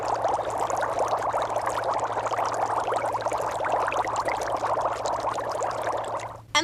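Steady, continuous bubbling of breath blown through water in a jar, a close gurgling churn that runs for several seconds before stopping abruptly.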